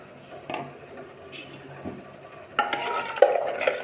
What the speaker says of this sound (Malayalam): ഇത് നന്നായിട്ടൊന്ന് ഇളക്കി യോജിപ്പിക്കാം.